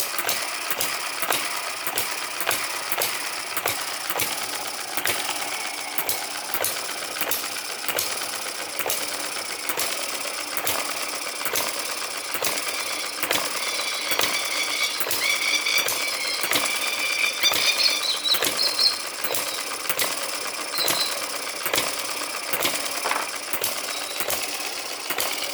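A Microcosm M91 water-cooled vertical hit and miss model engine runs and fires with sharp, regular mechanical beats that repeat steadily for over twenty seconds, close up and fairly loud, without voices.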